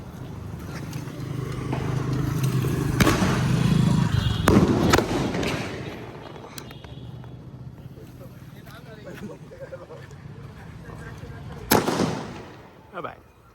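Diwali firecrackers and fireworks go off outdoors in a series of loud booms and cracks, some close and some farther away, with a final sharp blast near the end and people talking throughout.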